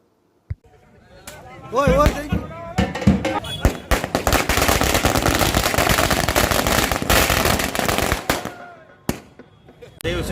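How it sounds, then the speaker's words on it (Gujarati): Firecrackers burst in rapid, crackling volleys during a BJP youth wing street celebration with dancing at Teen Batti Chowk in Dwarka, starting with a single sharp pop and building into loud, near, continuous popping with voices mixed in. "દ્વારકામાં ભાજપ યુવા મોરચા દ્વારા તીનબત્તી ચોક ખાતે ફટાકડા ફોડી અને નાચી અને ઉત્સવ મનાવવામાં આવ્યો હતો"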